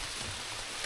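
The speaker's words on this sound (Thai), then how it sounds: "ฝนก็เริ่มตกแล้ว" Rain begins to fall outdoors in cold weather. It makes a dense, even hiss of drops across the whole moment, with no other sounds.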